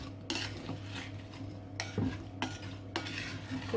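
Orange juice is mixed with other ingredients for a beetroot tarte tatin, with a spoon scraping and clinking against a bowl in several separate strokes amid quiet background hum.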